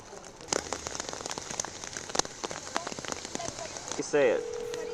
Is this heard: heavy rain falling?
yes